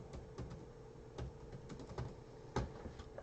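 Typing on a computer keyboard while filling in a spreadsheet: irregular, close key clicks and a few sharper taps over a quiet room hum, with no speech.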